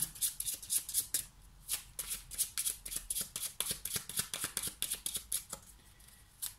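Tarot cards are shuffled for an astrology reading, giving rapid, crisp riffling bursts that repeat steadily and close up, with no voices.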